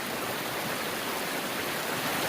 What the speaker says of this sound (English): but it's a really beautiful waterfall now.